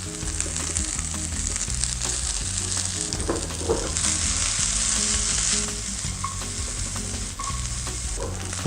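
Already-cooked chestnuts sizzle and fry steadily in a hot pan, loud and continuous, with faint stirring scrapes near the middle and no voices.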